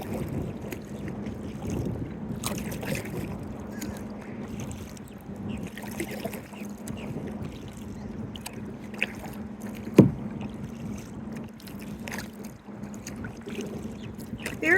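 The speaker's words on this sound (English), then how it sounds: "we kayak the shores of this beautiful wildlife refuge" A kayak paddles along the shore of a wildlife refuge, with soft watery swishes and trickles under light wind noise, close by, and one sharp knock midway.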